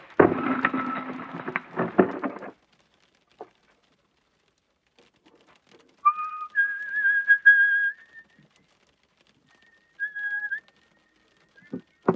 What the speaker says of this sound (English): don't forget to whistle Loch Lomond. That's me special theme song.